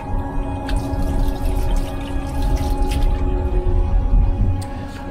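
Water runs steadily into the small sink of a coach toilet on an overnight bus from London to Dublin, a continuous close splashing trickle mixed with the low hum and rattle of the moving vehicle.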